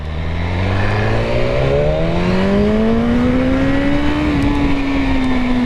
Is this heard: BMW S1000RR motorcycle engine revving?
yes